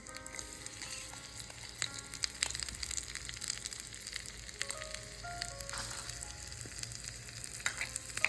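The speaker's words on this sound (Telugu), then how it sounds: "బటర్ బాగా వేడెక్కినాక బిర్యానీ ఆకు, లవంగాలు, మిరియాలు, కట్ చేసి పెట్టుకున్న గార్లిక్, ఆనియన్, క్యారెట్ని కూడా యాడ్ చేసుకోవాలి" Hot butter sizzles loudly with bay leaf, cloves, peppercorns, chopped garlic, onion and carrot for a tomato soup. The close, continuous frying crackle carries occasional stirring scrapes, with no voices.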